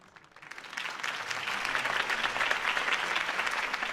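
Crowd applause at a political campaign rally for Harvey Dent in the Batman Telltale video game, swelling quickly and holding as a dense, sustained clapping from a large audience.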